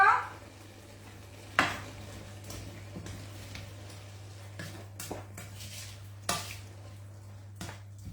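Sugar and egg yolks being mixed in a bowl, with scattered utensil knocks and clinks against the bowl at irregular intervals over a low steady hum, fairly quiet with long gaps between strikes.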